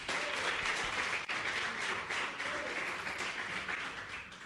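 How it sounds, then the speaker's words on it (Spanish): A live comedy audience applauds a stand-up comedian with dense, steady clapping and some cheering, a full crowd sound that holds strong and fades slightly toward the end. "Un fuerte aplauso para él."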